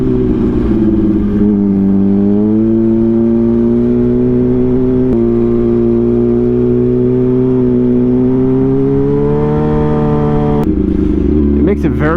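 Motorcycle ridden along a bumpy, grooved repaved mountain road toward Mt Tamalpais, its engine a steady loud drone with shifting revs throughout, with a person talking over it.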